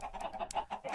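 Minecraft chickens cluck in a quick series of short, close squawking calls over about a second, with no talking.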